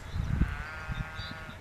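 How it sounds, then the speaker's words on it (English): Sheep bleat close by along a dirt path beside a creek on a bike tour, several short wavering baas in quick succession over light outdoor ambience. "we got sheep over there"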